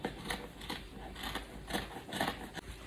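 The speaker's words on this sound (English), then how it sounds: "Cutting the back neckline." Scissors snip through Ankara fabric while a kimono jacket is cut out, a close, quiet series of crisp, rhythmic crunching cuts about every half second, with no talk.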